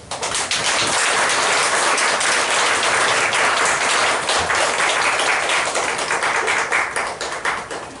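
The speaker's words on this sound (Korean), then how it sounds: "박수로 전달하겠습니다" A church congregation applauds during a Sunday worship service, steady dense clapping filling the room for several seconds before slowly thinning out.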